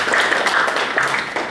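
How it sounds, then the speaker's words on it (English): Audience applause for a professor at the close of an academic session on socio-economic change, a steady wash of many hands clapping filling the short moment without talk. "let's we give a big applause to Professor Wakimura"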